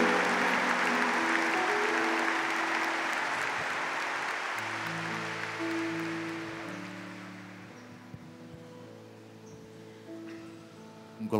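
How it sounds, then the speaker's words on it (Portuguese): A congregation at a Eucharistic adoration service claps in a broad, sustained wash that slowly fades away while sustained organ or keyboard chords rise and hold beneath it. "Pode aplaudir, Jesus"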